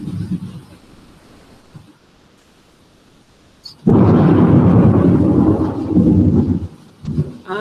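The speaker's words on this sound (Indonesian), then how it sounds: "Suara hujan." Rain with thunder: a quiet patter of rain, then a loud rolling thunderclap rumbles for about three seconds before fading into further rumbles.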